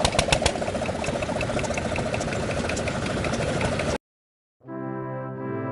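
A single-cylinder Yanmar SK marine diesel engine runs with a loud, rapid, steady knocking chug for about four seconds before stopping abruptly, and a short silence follows.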